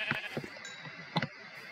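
Sheep in a survival video game bleat in several short, faint calls, a pair early on and another pair about a second later, with quiet gaps between.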